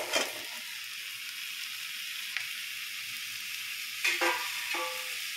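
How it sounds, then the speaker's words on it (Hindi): Prawns added to fried spice masala in a pan set off a steady, soft sizzle and frying hiss, with a couple of brief stirring scrapes toward the end. "मसाला भून चुका है, अब इसमें डाल देंगे झींगा।"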